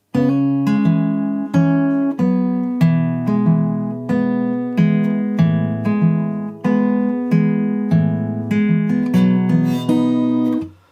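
A bright guitar riff of plucked notes on a capoed guitar in standard tuning repeats in a steady rhythm, played alone, the phrase returning several times before ringing out at the end.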